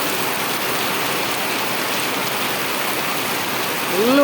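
Heavy rain pours down in a constant, even hiss, with a voice just starting at the very end.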